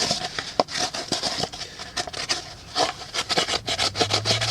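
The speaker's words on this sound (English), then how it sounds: "We can take any kind of a stone that we've got, just like this abrading stone, and we can smooth this up." Abrading stone rubbed along the cut edge of a dried gourd container to smooth it: repeated dry, gritty scraping strokes in an uneven rhythm, close and fairly loud, with no voices.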